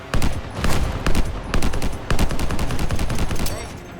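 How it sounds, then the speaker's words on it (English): Rapid bursts of auto sniper rifle fire in the video game Anthem, a dense string of loud, close sharp cracks in quick succession with brief pauses between volleys. "Yeah, an auto sniper rifle."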